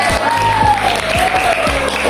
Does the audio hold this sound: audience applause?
yes